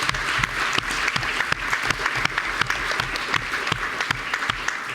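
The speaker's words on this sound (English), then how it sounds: "let's applaud them" Sustained audience applause at a human rights event on political opposition and anti-war resistance in Russia, steady and dense with many hands clapping at close range, no talk.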